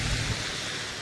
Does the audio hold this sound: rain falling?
yes